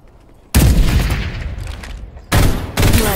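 Close, loud bursts of automatic gunfire in Farlight 84: a long sustained volley, a brief pause, then two more sharp bursts.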